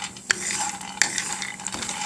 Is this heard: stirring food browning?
yes